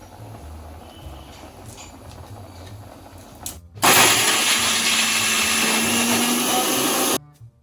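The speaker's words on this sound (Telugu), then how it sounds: "అల్లం వెల్లుల్లి పేస్ట్ ఆడుకోవాలి మిక్సీలో" A mixer grinder grinding ginger garlic paste starts up abruptly and runs loud and steady for a few seconds, then cuts off, after a quieter stretch of kitchen background noise.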